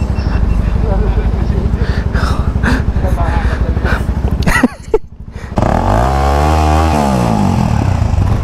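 A Suzuki motorcycle engine revs loudly on a mountain road ride from Manila to Baguio, a steady rasping drone that dips briefly, then returns as a rising and falling rev with close, continuous exhaust roar.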